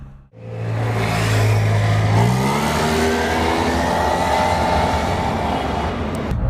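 A 2017 Yamaha T-Max 530 scooter accelerates on an urban expressway, its engine note rising steadily in pitch and then holding a loud, sustained drone with rushing wind noise.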